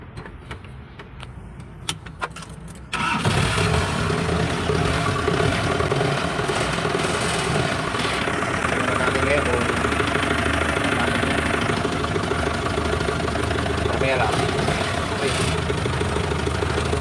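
A Honda car engine cranks and catches after a short stretch of quieter sounds, then idles loudly and steadily at close range for the rest of the clip during DIY transmission work, with faint voices briefly audible.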